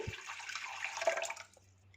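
Tamarind being washed in water, a close splashing and swishing for about a second and a half before fading to quiet.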